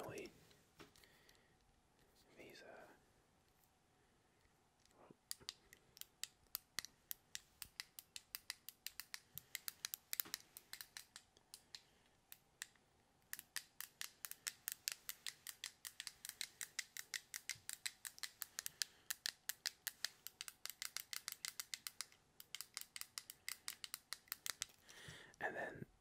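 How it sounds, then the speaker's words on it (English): Buttons on a handheld stress cube are pressed over and over, producing dozens of crisp, close clicks in quick irregular runs after a quieter start with a few soft handling rustles. "three of the five buttons make a clicky noise"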